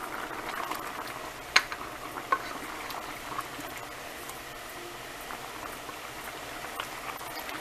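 Frozen green baby lima beans simmer in broth in a pot, a soft steady bubbling with a couple of brief clinks early on, close and fairly quiet, with no talk.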